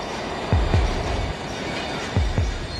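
A runaway train closing in during the Gare de Lyon crash reconstruction: a loud continuous rail rumble with heavy paired wheel clacks over track joints, two groups of thumps close by.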